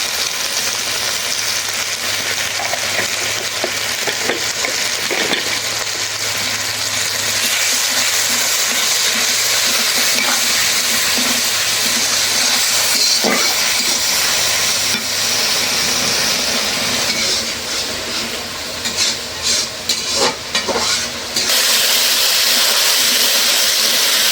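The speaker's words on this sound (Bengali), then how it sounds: "মশলাটা কষে নিলাম।" Spice paste of turmeric, chili, coriander and cumin sizzles steadily in a pan, a loud continuous hiss with scraping stirs, ending abruptly after about twenty seconds.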